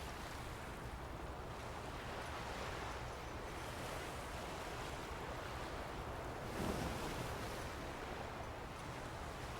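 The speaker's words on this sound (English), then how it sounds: "Every sleep app uses the sounds of ocean waves for hypnosis and meditation." Steady ocean surf with continuous rushing wash and a swell rising around the middle; no voices.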